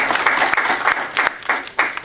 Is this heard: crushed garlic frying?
no